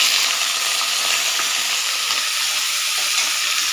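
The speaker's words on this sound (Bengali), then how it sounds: "শাক ফোড়ন দেবো আমি, তার জন্য একটু কালো জিরে, শুকনো লঙ্কা দিলাম, আর কেটে রাখা পেঁয়াজ আর লঙ্কা দিয়ে দিলাম" Black cumin, dried chilli and chopped onion fry in hot oil for a tempering, a loud, dense, continuous sizzle that hisses steadily throughout.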